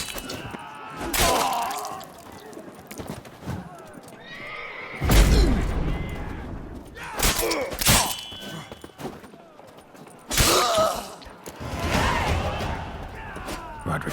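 Horses neighing in The Witcher 3 amid a fight, several loud whinnies in bursts with some hoof clatter and crashing impacts, mixed with voices and combat noise.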